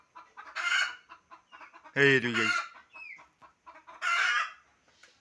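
Hens cluck and a rooster gives a short call in a yard holding about a hundred chickens, with someone talking in between the bird sounds.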